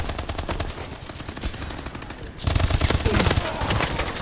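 Automatic gunfire in an online team shooter video game with objectives being captured: sustained rapid bursts that are loud and continuous, growing heavier midway, with no speech.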